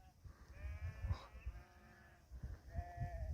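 Several grazing sheep bleat in wavering calls, one after another, fairly faint against a low rumbling background with no speech, on a migration route from Erzurum to Iğdır.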